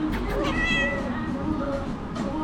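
A cat meows loudly and close by at a restaurant with chickens around, a drawn-out plaintive call followed by a shorter one, over a noisy background.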